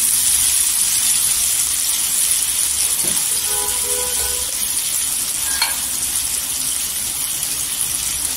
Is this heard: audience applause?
no